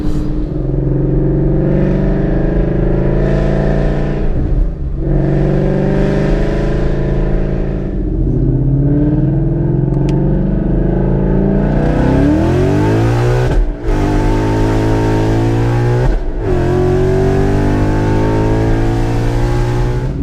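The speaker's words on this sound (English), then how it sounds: "I'm driving the car now just to see how it is" A modded 2015 Ford Mustang GT V8 revs hard, its note climbing and falling through repeated throttle blips with brief cuts between pulls, loud and close with no one speaking.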